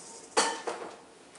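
A mixing bowl set down in a kitchen sink gives one sharp clattering clunk followed by a smaller knock, then a fading ring, close and fairly quiet with no talk.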